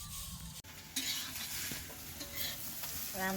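Food sizzling as it cooks in a pan, stirred close by with a utensil that scrapes and clinks against the metal, the frying hiss steady throughout.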